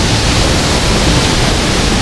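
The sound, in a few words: Babak Pelangi waterfall roaring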